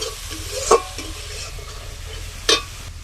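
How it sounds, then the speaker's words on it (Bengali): A spice masala of cumin, coriander, turmeric and chili powder fries in a pan for cauliflower biryani, a soft steady sizzle broken by two sharp spoon scrapes against the pan. "মশলাটা ভালো করে একটু কষাবো"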